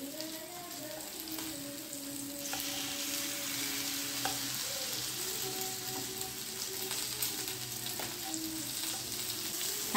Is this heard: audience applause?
no